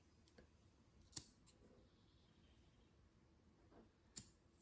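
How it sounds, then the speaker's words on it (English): A few quiet, crisp scissor snips through yarn, spaced apart with near silence between them. "we're going to take the scissors and we are going to cut as close as we can to the material"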